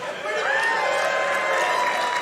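A live audience at a Summer Games Done Quick speedrun event applauds and cheers, a dense, steady roar of clapping and voices that swells after a brief quieter start and holds loudly throughout.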